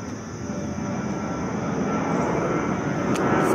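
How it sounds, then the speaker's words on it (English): An airplane passes overhead near an airport in Queens, New York, its engine roar building steadily louder over a few seconds against background outdoor ambience. "So we're close. There's another plane."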